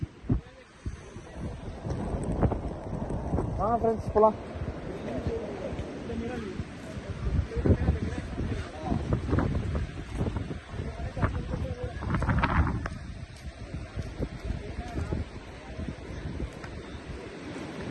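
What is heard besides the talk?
strong wind on Doddabetta mountain peak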